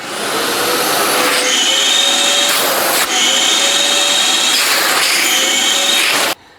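A Craftsman 110 CFM shop vac runs loud and close with a steady whining roar, its pitch shifting a few times before it cuts off abruptly at the end.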